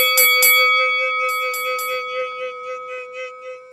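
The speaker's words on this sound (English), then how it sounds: "hit that notification bell like this. There a beep." A notification bell sound effect rings out bright and clear, a few quick metallic strikes followed by a ringing tone that fades gradually as softer chimes trail off.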